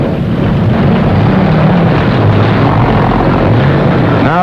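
Propeller airplane engine running loud and close, a dense steady drone that holds for several seconds without letting up, no voices.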